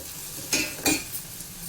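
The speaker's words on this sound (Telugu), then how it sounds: "క్యాప్సికము, క్యారెట్, గ్రీన్ బటానీ ఇవన్నిటిని ఒకసారి వేయించుకుందాం." Capsicum, carrot and green peas stir-fry in a pan, a steady sizzle broken by two quick scraping strokes of a spoon across the pan.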